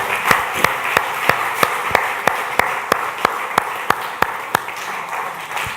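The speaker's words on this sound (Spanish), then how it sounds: "Dale un aplauso al Señor, por favor." A church congregation claps in a slow, steady unison beat, about fourteen sharp claps spaced evenly over a soft room background.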